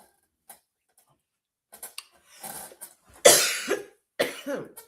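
Someone coughs and clears their throat up close, a few rough hacking bursts separated by short pauses.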